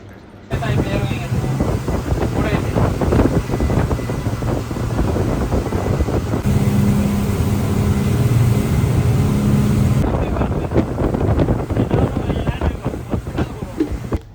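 A speedboat engine drones steadily over rushing water and wind buffeting, loud and close, with the motor's tone shifting briefly partway through; near Keyodhoo Island, Vaavu Atoll, Maldives.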